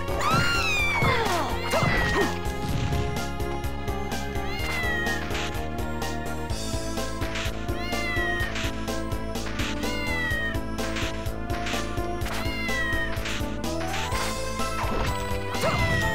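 Cats meow repeatedly in the video game Castlevania: Order of Ecclesia, loud high-pitched calls over a continuous musical soundtrack.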